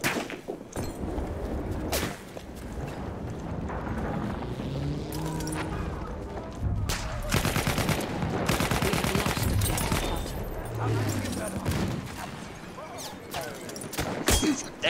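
Gunfire from every direction in a Battlefield 1 multiplayer round, dense bursts of automatic and single shots with thuds, continuous and fairly loud, with player talk over it at times.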